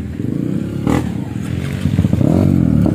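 A motorcycle engine that has just been submerged in a river revs in rough, sputtering bursts, rising louder toward the end, close and alone with no speech.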